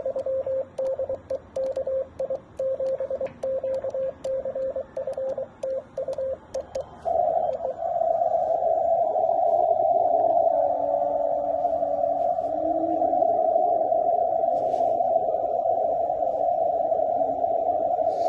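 A faint warbling amateur radio signal pulses in and out, then a steady tone sits over hissing static, distant and hard to make out, with no clear speech.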